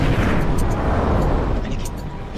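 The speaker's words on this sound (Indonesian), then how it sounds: "membakar gudang mesiu sehingga menimbulkan ledakan besar" A gunpowder warehouse blows up in a large blast, heard as a dense, heavy, roaring low rumble that holds steady and eases slightly near the end.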